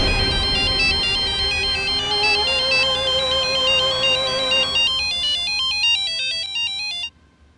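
A loud electronic phone ringtone plays a repeating melodic pattern of beeping tones, then cuts off abruptly near the end.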